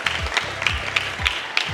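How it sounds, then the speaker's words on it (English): Applause from a conference audience at a tech event in Mombasa, moderately loud and fairly short, with some prominent individual claps and low voices faintly underneath. "So please give an applause for those communities."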